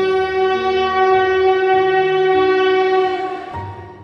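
A train pulling out, its horn sounding one long, steady, loud chord that holds for several seconds before fading, with low rumbling of the cars underneath.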